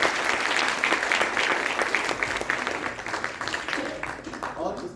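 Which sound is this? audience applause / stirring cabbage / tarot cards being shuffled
audience applause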